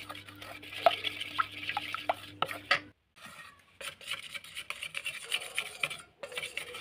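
A spoon stirs eggless cake batter made with milk and oil, scraping and knocking against the bowl in a steady rhythm with short pauses, close and fairly clear.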